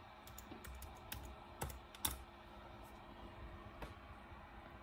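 Keys tapped on a Mac keyboard while entering a password during a macOS Big Sur install on an older unsupported Mac: several faint, scattered clicks over a steady low hum, with a couple of sharper presses near the middle.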